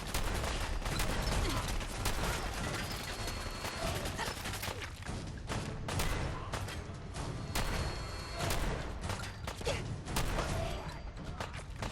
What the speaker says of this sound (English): I like the combat shotgun.